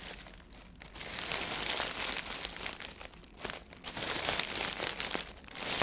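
A plastic bag holding Popin Cookin DIY candy kits is crinkled close up, a continuous rustling and crackling that swells and eases over several seconds without any speech.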